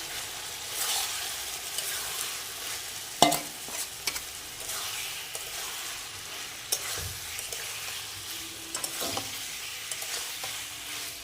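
Pre-fried cauliflower and potato being stir-fried with spices in a pan for an egg curry: a steady scraping, stirring sizzle with occasional sharper clinks of the utensil, close and moderately loud, with no voices.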